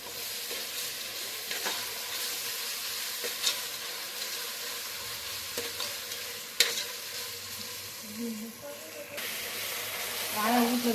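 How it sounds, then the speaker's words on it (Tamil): Chicken biryani masala sautéing and being stirred in a pan, a steady close sizzle with soft scraping strokes of the spoon and occasional clinks, continuing without a break. "வதக்கிட்டு வதங்கிட்டு நல்லா கிண்டி விட்டுக்கோங்க"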